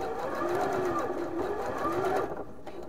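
A foot-pedal sewing machine runs slowly through fabric with a continuous, close rhythmic whir that eases down toward the end.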